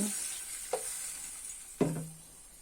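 Water poured into a pan of frying jackfruit and potato curry gives a soft, steady sizzle, with two sharper hisses as more liquid hits the hot oil.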